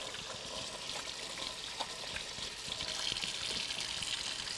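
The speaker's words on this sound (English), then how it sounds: "Rinse this oil off my hands." Running tap water splashes steadily over oily hands being rinsed in a home kitchen, a faint, continuous trickle and spatter with no talking.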